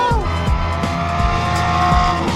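Gated Audi R8 V10 fitted with a Valvetronic exhaust revs hard, its shrill race-car wail climbing and dropping in quick bursts, loud and close.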